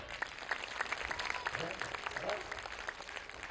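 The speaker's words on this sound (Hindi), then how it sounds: "तालियां बजाओ।" Fairly faint, scattered applause from an audience at a Hindu cow-worship discourse, individual claps standing out against a low crowd murmur.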